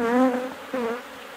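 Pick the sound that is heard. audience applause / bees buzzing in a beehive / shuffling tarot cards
bees buzzing in a beehive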